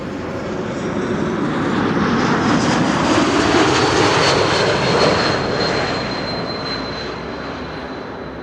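A KLM Embraer E2 195 jet airliner arriving from Florence at Amsterdam Schiphol Airport roars loudly and steadily, its engine noise swelling and then easing slightly as it passes close by.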